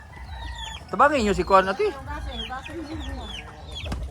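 Chickens cluck and squawk close by behind a house, with chirping chicks in the background, while people talk over them.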